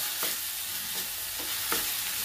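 Taro leaves with a hilsa fish head being stirred in a pan, giving soft scraping strokes roughly every half to three-quarters of a second over a steady low sizzle, close and alone.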